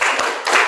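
Students standing for a classroom focus ice-breaker clap hands in quick bursts, two short clusters of sharp claps close together, fairly loud with no talking.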